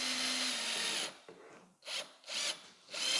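A power screwdriver drives a screw into a door hinge, whirring in a steady burst and then in shorter, stuttering pulses as the screw seats, close and loud.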